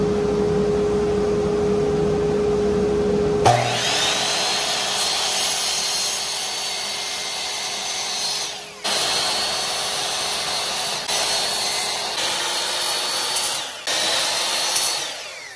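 A miter saw slicing a 54 degree angle through wood: a motor whine spins up, then loud close cutting passes in several bursts, each dropping away as the blade finishes and restarts, with no talking.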